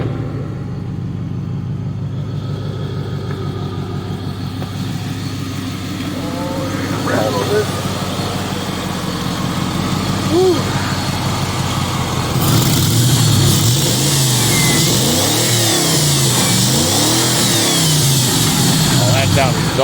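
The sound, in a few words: car engine running and revving after exhaust replacement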